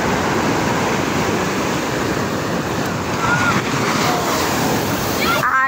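Ocean surf rolls steadily onto a beach in the morning, a loud continuous wash of breaking waves with wind buffeting the microphone throughout.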